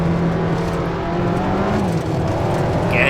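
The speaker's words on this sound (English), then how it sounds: "Again, the car rattling away." Race car in Assetto Corsa on PS4 at the Nürburgring in heavy fog, engine droning steadily and rattling over curbs, a continuous close mechanical hum with a slight rise near the end.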